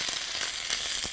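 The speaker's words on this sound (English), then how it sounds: "So you like stir frying it." Food sizzles hard in a hot pan during stir frying, a continuous loud hiss crackling with small pops close up, no voices.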